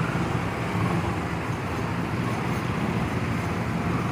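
Dense road traffic at Matina Crossing in Davao City, slowed by a broken-down truck, makes a steady, loud rumble of idling and creeping vehicles with no clear pauses.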